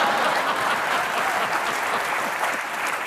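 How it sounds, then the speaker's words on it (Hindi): A studio audience at a television comedy show applauds in a steady, dense wash of many hands clapping, sustained and loud throughout without pause. "अनिल सर के लिए जोरदार तालियां।"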